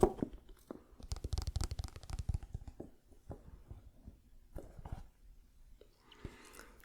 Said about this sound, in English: ASMR triggers, in my opinion, are iPhone boxes.